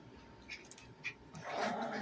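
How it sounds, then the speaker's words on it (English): Puppies playing indoors, giving a few faint high whimpers and yips spaced apart, then a louder cluster of squeaky whines near the end, heard at a distance. "please ignore my puppies, they're playing, if you can hear them"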